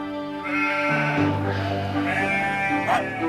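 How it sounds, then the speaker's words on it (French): Sheep bleating in a flock on a hillside pasture, several overlapping calls that rise and waver, fairly close and loud over a steady low background. "Venez les moutons!"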